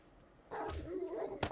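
Dogs barking and yipping in the survival video game 7 Days to Die, a few short faint barks and whimpers rising after a quiet start, heard at a distance with a sharper yelp near the end.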